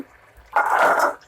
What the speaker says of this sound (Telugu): ఇప్పుడు మనం మూత తీసి చూద్దాము